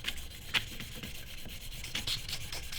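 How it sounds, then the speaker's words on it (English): Oiled paper buffs the rough cast bearing surface of a Marlin rifle part, giving a close, steady rubbing scrape with a few sharper strokes. The rubbing is heard alone, with no talk. "give it a little bit of a buffing up on that surface, that bearing surface"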